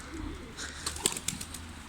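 A pigeon flaps its wings in a loft, a few brief soft flutters and taps, faint and close, over a quiet background.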